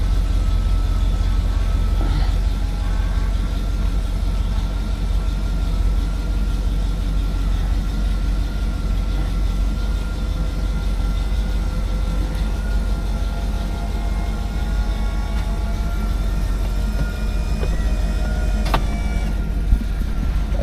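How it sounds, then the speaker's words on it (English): The power convertible top of a 1963 Pontiac Bonneville cycles up and down, a steady motor whir with faint shifting tones over a constant low engine rumble, with no talking. "First, I'm gonna go ahead and show the top going up and down."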